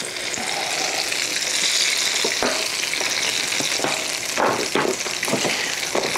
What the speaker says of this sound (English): Getting right up in there, flipping them in the hot grease like a crazy person.